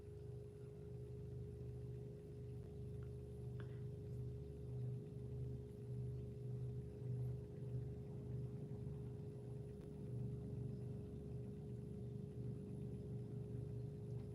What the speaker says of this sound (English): there's a helicopter, some kind of aircraft approaching